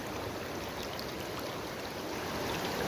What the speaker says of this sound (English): See the water coming in the top. Turns, goes down the sluice.